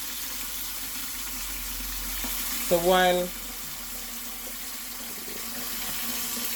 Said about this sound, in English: You put enough water as possible in it.